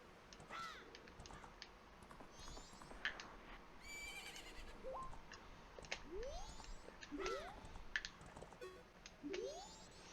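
A horse in the video game Zelda Majora's Mask gives several short, rising whinnies spread across the stretch, fairly loud and close, mixed with other chirpy game effects and no talking.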